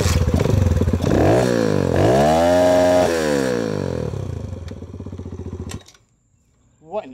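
A dirt bike engine revs hard and close, rising and falling loudly for several seconds before cutting off abruptly, followed by a brief clatter.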